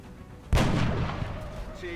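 A single weapon shot in the video game XCOM bursts out suddenly and loudly, then a booming, rumbling tail lingers and slowly decays.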